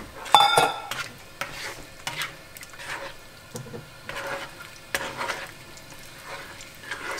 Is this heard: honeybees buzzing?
no